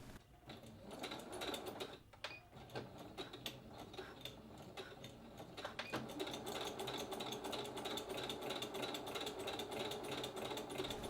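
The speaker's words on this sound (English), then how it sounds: "Baste or sew the length of trim closed 1/4 inch from the raw edges." Sewing machine stitching trim closed on a Star Trek costume pant leg: a steady, rapid mechanical whirr with fine rhythmic clatter, pausing briefly around the second second and then running continuously and slightly louder, close up with no talk.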